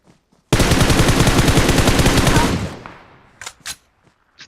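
Automatic gunfire in the mobile game PUBG Mobile, one loud sustained burst of rapid shots lasting about two seconds, then trailing off into echo with a few faint clicks afterward.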